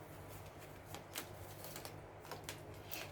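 Tarot cards are shuffled in a repeated papery riffle with soft slaps, close and fairly quiet, over a steady low hum with no talking.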